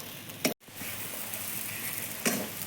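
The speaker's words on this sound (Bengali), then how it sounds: "সুজি দিয়ে একটু নেড়ে ছেড়ে আমি নামিয়ে দেবো" Chicken filling with semolina stirred in a kadai for chicken cutlets: a steady soft sizzle with two sharp scraping stir strokes and a brief drop between them, close and alone.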